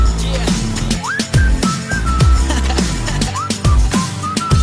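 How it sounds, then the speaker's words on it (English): Whistled melody in a song, a clear, loud rising-and-falling tune of repeated phrases over a steady musical backing with a thumping beat. "so I just whistled at her"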